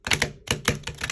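A deck of tarot cards printed on sturdy, matte plastic-coated cardstock gets shuffled by hand. The cards give quick, crisp riffling clicks in two bursts with a brief pause between them, close and fairly quiet.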